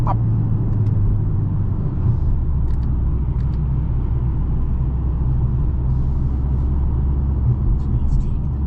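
A 2023 Mercedes-AMG GLA 45 engine heard from inside the cabin as a deep, steady low rumble while driving, with intermittent talking over it.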